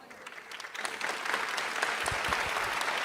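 A church congregation breaks into applause, starting thin and swelling within a second into full, sustained clapping that stays loud and steady to the end, with no speech over it.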